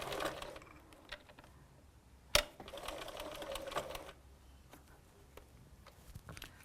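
A sewing machine stitches the seams of a charity quilt, running with a faint, steady mechanical whir and soft patter, broken once by a single sharp click.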